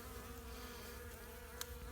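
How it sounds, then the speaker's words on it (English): Honeybees from a freshly captured swarm crowd a nuc box vent, a steady faint buzzing hum holding throughout, with one brief sharp click near the end. "These bees are trying to get in through the vent because they can smell the queen's pheromone."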